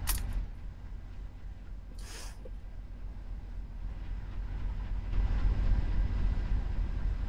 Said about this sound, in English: I hear a steam engine coming.